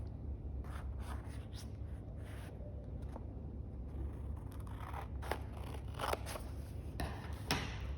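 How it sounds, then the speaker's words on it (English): Scissors snipping through folded paper in a series of short, close cuts with brief pauses between, quiet against a low background hum. "use your scissors, and you're going to cut from the folded edge all the way down to this center crease"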